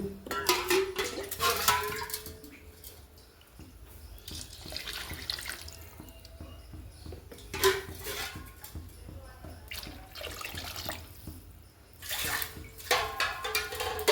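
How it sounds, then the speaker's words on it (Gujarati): Water is poured into a pot of rice for khichdi in several bursts with pauses between, splashing close by, with light metallic clinks. "2 લોટા આપણે સાદું પાણી રેડીશું."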